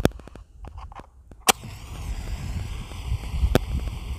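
A Diamond weatherproof match strikes with a few faint scratches, then flares in a sharp burst and settles into a steady, close rushing hiss as it burns, with one more sharp crackle partway through.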